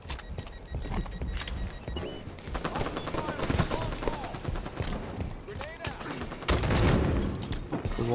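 Rapid bursts of automatic gunfire in a Halo 5 Strongholds multiplayer match, sharp shots rattling close with game sounds beneath, intensifying toward the end.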